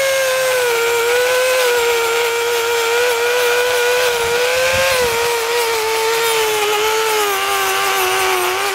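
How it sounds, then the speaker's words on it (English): A wire brush on a high-speed rotary tool scrubbing the exhaust of a Suzuki GS500 motorcycle, a constant whining tone with a slowly wavering pitch and an abrasive hiss, close and loud. "I'm just going to give that a quick clean up on the exhaust with a bit of wire brush on the rotary tool"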